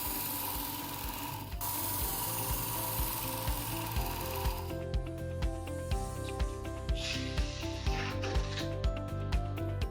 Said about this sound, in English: I'll draw the knife through 2 more times on each side.